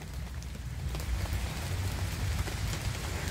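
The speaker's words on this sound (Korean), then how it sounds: "비가 억수로 온다" Heavy rain pours down steadily in a dense, continuous hiss of drops on surfaces, fairly soft and uniform with no voices.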